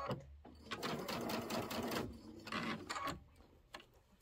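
A sewing machine stitching with a straight stitch needle plate fitted, giving bursts of rapid mechanical whirring that stop and restart, close and fairly quiet, with brief handling clicks between runs.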